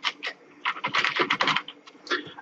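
Computer keystrokes tapped out in a quick uneven burst while typing a word during CorelDraw X7 work, close and fairly soft, with brief pauses between clusters of clicks.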